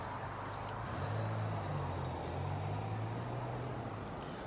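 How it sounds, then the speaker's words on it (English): Road traffic hums outdoors as a low, steady rumble with a passing vehicle's engine drone swelling and fading at moderate distance, faint and continuous with no talking. "I hope you can hear me over the traffic."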